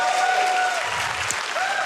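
A crowd at a speedrunning marathon event claps and cheers in steady, loud applause that carries for the whole stretch.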